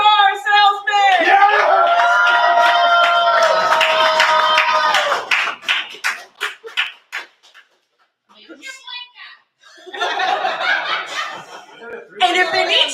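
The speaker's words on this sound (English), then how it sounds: "Give it up for the used car salesman!" At a Halloween poetry open mic, the crowd cheers and claps for the used car salesman contestant. A loud, sustained whooping ovation lasts about five seconds, then thins into chuckles, a pause, and people talking.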